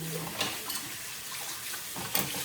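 Running water splashes steadily into a sink, with a few soft clinks and knocks of dishes being handled.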